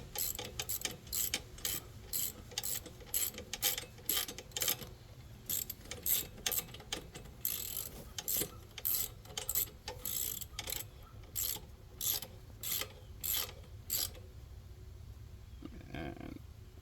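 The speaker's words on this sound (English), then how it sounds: "Tighten it, same thing with a wrench." Ratcheting wrench tightening a spark plug on a Generac 24kW home standby generator, a long run of rapid clicking pawl bursts in steady rhythm, close and clear, ending with a brief softer handling sound.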